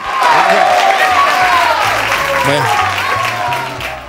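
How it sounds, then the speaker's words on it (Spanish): Studio audience applause opening a Spanish variety television show, a dense, loud wash of clapping sustained through the stretch with talk mixed underneath. "que no pare l'aplaudiment"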